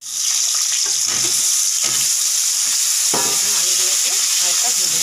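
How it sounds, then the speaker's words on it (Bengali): Potatoes frying lightly in hot oil give a steady, loud, close sizzle throughout, with occasional stirring clatter on top. "আলুগুলোকে হালকা ভেজে"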